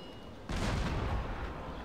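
Cannon fire in the strategy game Anno 1701 erupts as a sudden loud, rumbling blast that rolls on as a sustained broadside roar after a quieter opening.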